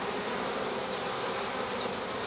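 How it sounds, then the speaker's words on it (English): Honey bees buzz steadily during a hive inspection, the colony nosy and laden with pollen; a dense, continuous close-up hum with a few individual bees whining past. "Lovely bees. Little bit nosy, full of pollen"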